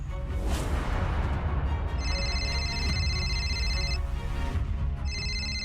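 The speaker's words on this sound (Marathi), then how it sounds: "प्रताप, प्रताप, प्रताप, मुलाकडच्यांचा फोन आहे, जरा थांब" A telephone rings indoors in a domestic drama scene, a steady electronic ring in two long bursts separated by a short pause, heard over a dense, busy background score.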